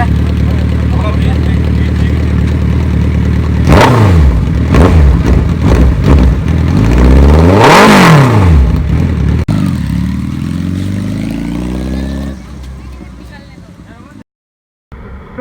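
A Suzuki Hayabusa sport motorcycle revs hard twice in quick succession, each loud climbing roar falling back to idle, then the engine note settles lower and fades before cutting off.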